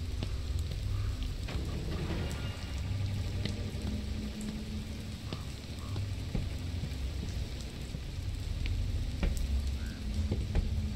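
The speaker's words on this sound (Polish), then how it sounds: "Ale pada." Rain pours down continuously in the horror game Fears to Fathom Ironbark Lookout, a dense, even hiss with scattered drips and a low rumble underneath, no voices.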